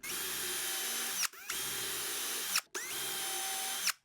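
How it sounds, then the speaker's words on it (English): A power drill with a countersink bit whirs in three sustained bursts into plywood, each ending with a brief pause and the motor spinning down, close and fairly loud. "where's my pre-drill and countersink?"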